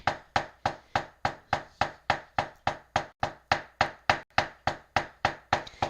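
A claw hammer pounds flowers steadily and quickly, about three sharp blows per second, each strike crisp and close with a short thud, continuing without pause.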